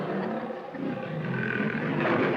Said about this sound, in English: was a lion